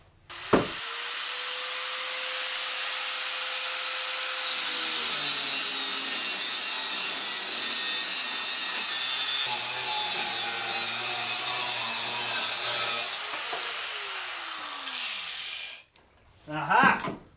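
Grinding or cutting through a stuck bolt on a V8 Toyota pickup, a loud continuous abrasive whine held for about thirteen seconds with shifting pitch, then winding down before a short clatter.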